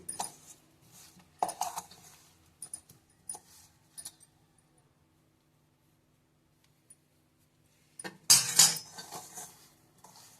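Tamarind pulp being stirred into amla (Indian gooseberry) pickle in a vessel, giving scattered metallic scrapes and clinks close by, a quiet pause in the middle, then a louder burst of clattering near the end.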